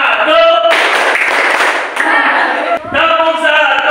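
Junior high school students at SMPN 1 Ayah play a class clapping game, a burst of group clapping lasting over a second, between stretches of a speaker talking over a microphone.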